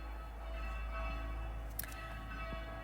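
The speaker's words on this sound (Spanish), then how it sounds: "no sé si oís las campanas de la iglesia" Church bells ringing outside a church shortly before Mass, heard faintly and at a distance as a steady resonant toll over a low background hum.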